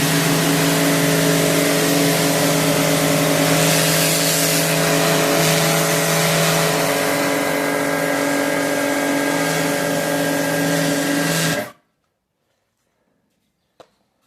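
A Stanley Fatmax pressure washer, after a pressure valve repair, drones loudly and evenly for several seconds, then cuts off abruptly, leaving silence broken by one faint click.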